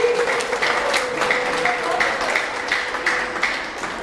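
A New Year's Eve audience at a Corfu celebration breaks into sustained applause, a dense steady wash of many hands with faint crowd murmur beneath.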